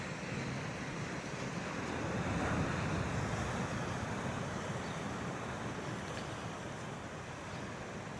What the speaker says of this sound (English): we're coming up on Kama'ole 1 Beach